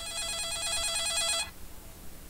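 A telephone bell rings in one sustained, bright, trilling burst that stops abruptly, followed by quiet room tone.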